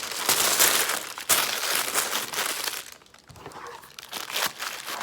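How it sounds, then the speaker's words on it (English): Close crinkling and rustling of wax paper being handled and wrapped, in bursts with a short quieter pause midway. "we're going to wrap this in some wax paper"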